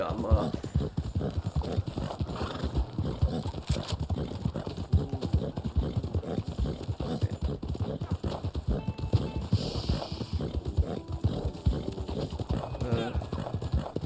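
Hooves of a black Arabian horse clip-clop steadily in the Wild West game Red Dead Online, a continuous rhythmic walking beat running under ongoing talk, with a brief whinny.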